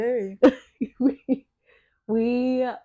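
A voice makes a few short, rough throat-clearing bursts, then gives a sustained voiced sound, all close and fairly loud.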